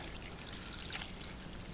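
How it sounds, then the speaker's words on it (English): Cold water poured over a batch of stinging nettles in a pot, a soft continuous splashing pour with faint trickling, quiet and close, no voices. "So we'll add our cold water."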